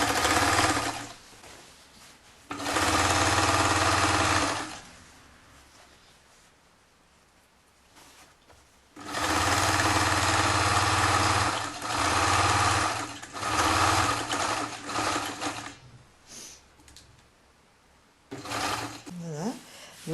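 Sewing machine stitching a 1 cm side seam on an unlined skirt, running in two long loud bursts with a shorter run near the end, separated by quieter pauses.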